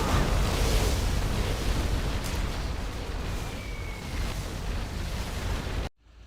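Particle cannon firing in C&C Generals Zero Hour, a loud, sustained roaring blast with rumbling low end that holds for about six seconds before cutting off abruptly.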